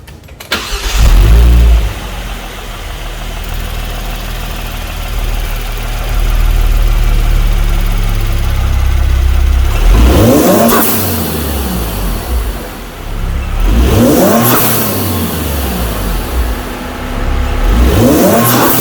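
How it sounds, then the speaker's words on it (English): A Genesis G70 or Kia Stinger engine cranks over at the start, settles into a steady idle, then is revved sharply twice in rising and falling bursts, loud and close with no talking. "I'm gonna go ahead and fire up the car and give it a few revs"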